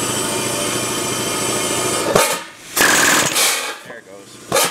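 An air-powered forging hammer in a workshop, with compressor noise building steadily before the hammer kicks into loud, rapid bursts of pounding separated by short pauses.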